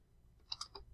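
Computer keyboard typing into a spreadsheet cell, three or four quick, close, faint key clicks in a short burst.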